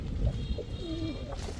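Pigeons kept for sale, running breeding pairs of racer and fancy breeds, coo softly in a short low burble against a busy background murmur, with no speech.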